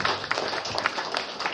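An audience gives a short burst of steady clapping for the Orang Rimba in an indoor gathering, a dense patter of many hands held at an even level throughout.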